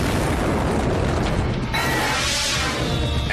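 A fiery wreck on a runway erupts in a sustained, loud explosive roar with rumbling bursts that swell midway, dense and continuous throughout with no voices.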